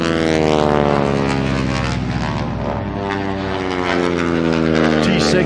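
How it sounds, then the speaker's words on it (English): A T-6 propeller plane performs a snap roll at the top of a loop during an airshow, its engine droning loud and steady with a strong harmonic buzz that wavers slightly as it maneuvers, with no talk over it. "T6 a little slower than the Peitz in a snap roll, but at the top he'll call for it, and there's the snap."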